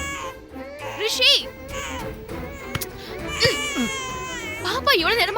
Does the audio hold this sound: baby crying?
yes